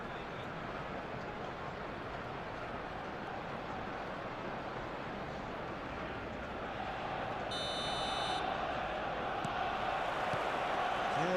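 Stadium crowd in the eFootball video game before kickoff, a dense steady roar of many voices that swells slightly near the end, with a brief electronic tone partway through and commentary spoken over it.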